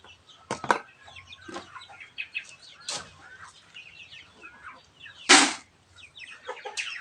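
Several chickens waiting to be fed cluck and squawk close by, with sharp bursts of calling and a brief flutter of wings.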